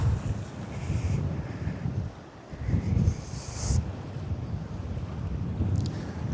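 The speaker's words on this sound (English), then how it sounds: "The wind's coming from behind me, hopefully it'll protect the microphone" Wind blows across the sea shore at Folkestone Warren, a rough rumbling buffet on the microphone that swells and dips in gusts, with a faint wash of waves behind it.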